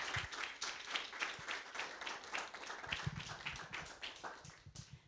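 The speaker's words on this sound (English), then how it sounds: "Can we have a final round of applause for Brian" An audience applauds a speaker at the close of a book talk, quick overlapping hand claps from a modest crowd, fairly close and uneven, continuing for several seconds without voices.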